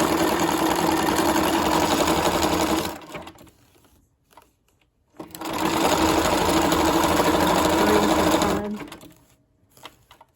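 A sewing machine running a zigzag stitch with variegated thread, two steady whirring runs of about three seconds each separated by a quiet pause, close and loud, with a faint click at the end.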